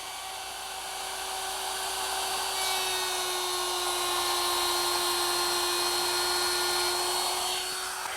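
A wood router cuts a widened groove, a high, steady whine that swells slightly as it bites into the wood and holds nearly constant before easing off at the end.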